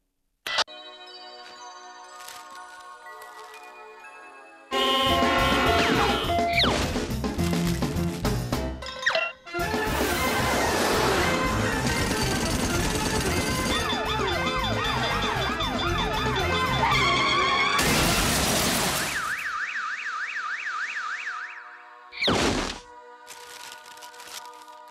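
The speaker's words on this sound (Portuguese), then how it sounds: "não consegues escapar ao barulho da grande cidade" Cartoon big-city noise: a loud, dense din of sirens, horns and clattering traffic bursts in after a quiet start, runs continuously, breaks off briefly, then resumes before ending in a few short blasts.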